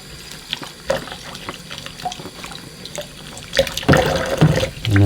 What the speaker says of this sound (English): Let's give it a rinse off.